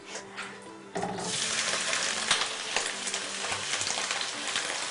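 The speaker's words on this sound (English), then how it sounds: "We're just going to saute them a bit before we add the other ingredients." Chicken sautéing in a pan: after a quieter opening with faint talk, a loud, dense sizzle bursts in and holds steady, with scattered crackles and pops close by.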